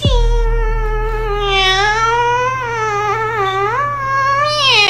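A person imitates a cat, holding one long, loud, wavering meow that rises and falls in pitch for about five seconds, clear and alone.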